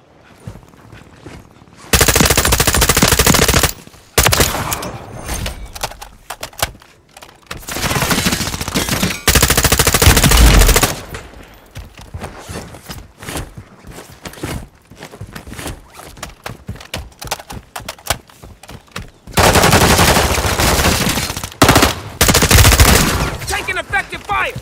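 Call of Duty MW3 gameplay brings long, loud bursts of automatic gunfire, rapid machine-gun volleys alternating with short gaps of scattered shots and movement, and a voice briefly heard amid the firing.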